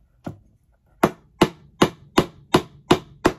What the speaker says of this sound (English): I'm just going to use my upholstery hammer and tap that